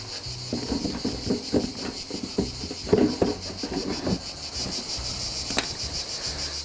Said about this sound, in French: Les cigales nous bercent, nous tiennent réveillés, ça dépend